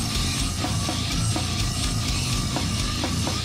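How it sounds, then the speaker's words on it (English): Slam death metal, a dense, loud wall of downtuned distorted guitars and heavy pounding drums, with steady crashing accents throughout and no speech. "And if you're not familiar with slam, basically what that means is bands that sound like this"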